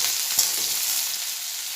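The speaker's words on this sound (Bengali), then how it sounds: "পেঁয়াজটা ভাজা হয়ে গেছে" Chopped onion fries in a little hot oil in a pan, a soft, even sizzle with one small clink of stirring near the start.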